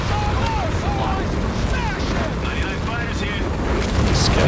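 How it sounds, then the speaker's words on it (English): Walking Stuka rocket barrage in Company of Heroes 3, a continuous roaring rumble of rocket fire with whistling, rising and falling tones, loud and sustained, with talk over it. "Here comes a walking Stuka now."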